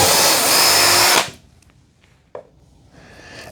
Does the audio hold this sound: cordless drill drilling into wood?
yes